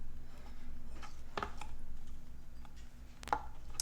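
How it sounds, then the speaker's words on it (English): Artichoke hearts chopped with a knife on a cutting board, giving a few sparse, faint taps over a low steady background hum, with no talking. "And we're just chopping these up."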